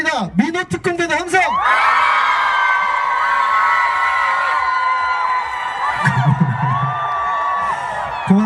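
An outdoor festival crowd in Yangpyeong keeps up loud sustained cheering and whoops, with a voice speaking over it at the start and again briefly midway.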